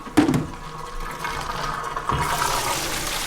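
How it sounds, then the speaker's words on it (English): Water is dumped slowly out of a cleaning bucket, a brief splash followed by a steady, gushing pour of water into a drain or sink, close and without speech. "Dump it out slowly to make sure the water doesn't go all over the place."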